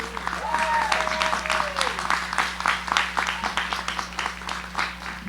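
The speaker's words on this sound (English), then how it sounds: "We can clap for them." Crowd at a high school senior graduation clapping for class advisors, steady mid-distance applause with a low electrical hum underneath and a faint voice near the start.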